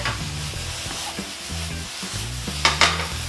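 Mushrooms cook in a pan with a steady sizzle, joined by stirring clatter and a couple of louder scraping bursts near the end, with no talk over it.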